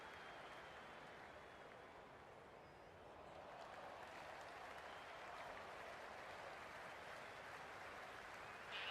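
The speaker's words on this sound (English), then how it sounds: "There's a buzz, a real buzz coming from the stands." A distant cricket crowd at an India versus Pakistan Under-19 Asia Cup final hums and claps faintly in the stands, a soft, continuous wash of murmur and scattered applause.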